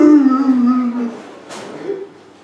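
A human voice imitates a dog howling: one long, loud, wavering howl that slides downward and fades into quieter whimpering sounds, with no other talking.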